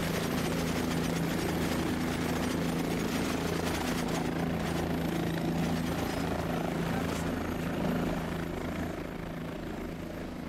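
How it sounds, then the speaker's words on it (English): Helicopter flying overhead in the video game Cepheus Protocol, a loud continuous rotor drone holding steady throughout and easing slightly near the end. "Man, that chopper is loud."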